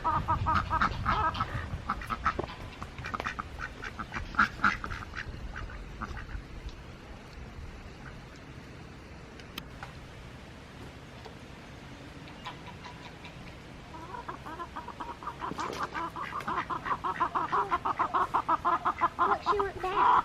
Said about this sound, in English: Most domestic breeds of duck will not go broody though,